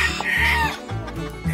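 Three hens in a backyard coop cluck close by, a run of loud, throaty, rhythmic clucks and short squawks filling the whole moment.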